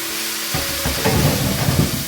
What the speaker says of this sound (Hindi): ये हमने फ्राई कर लिया लहसुन को, अब इसमें हम अपना चिकन ऐड कर देंगे